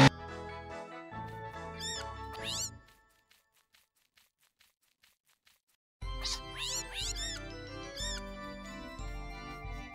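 Cat meows and squeaky cartoon effects from the Bad Cat Halloween event game, over busy game music. The music stops for a few seconds, leaving faint ticking taps, then returns with more rising meow-like chirps.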